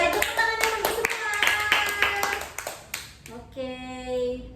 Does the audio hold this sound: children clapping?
yes